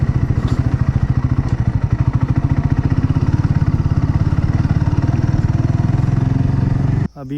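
A motorcycle ridden along a mountain road in Mizoram, its engine a loud, close, steady pulsing drone that holds evenly for about seven seconds before cutting off abruptly near the end.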